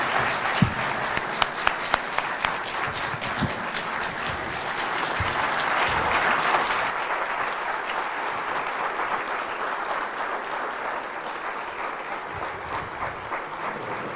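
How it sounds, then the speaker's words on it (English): Sustained audience applause following a speech at a business summit, dense and steady clapping for about fourteen seconds, swelling slightly in the middle before settling, with a few sharper claps standing out near the start. "let's just give him another round of applause, ladies and gentlemen"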